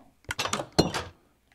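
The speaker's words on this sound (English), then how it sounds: "that door closed awfully fast." A door closing in the video game Minecraft, heard as a short cluster of clicky knocks and a thunk, fairly close and moderately loud, with no talk over it.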